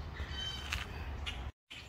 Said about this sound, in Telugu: మీకు బర్డ్స్ సౌండ్లు వినబడుతున్నాయా ఫ్రెండ్స్?